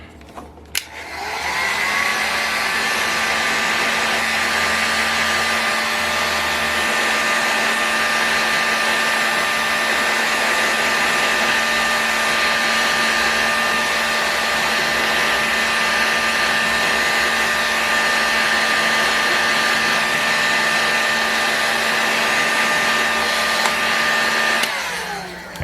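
A steady, loud blowing whir heats the small crankcase of an OS FS26 Surpass model engine before bearings are fitted. It runs unbroken and close for nearly the whole stretch, then cuts off at the end.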